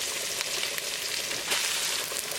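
Chopped onions fry in a pan with garlic, giving a bright, even sizzle that fills the short stretch, heard up close with faint stirring and no talking.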